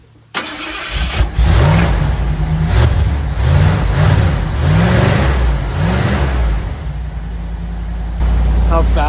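A 1979 Ford Bronco engine cranks briefly and catches quickly, then settles into a loud, steady idle with a few revving swells, heard close up with no talk over it.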